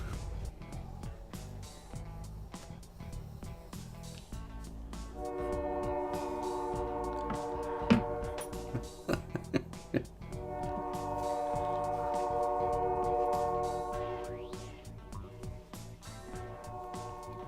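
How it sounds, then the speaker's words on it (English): A train rumbles past while its horn blares in long sustained blasts, loud and close, with clattering wheels underneath. "High quality train right there."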